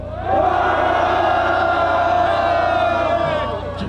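Onlookers at a marathon race event in Korea let out a loud sustained collective shout on cue, a single held roar lasting a few seconds before tapering off.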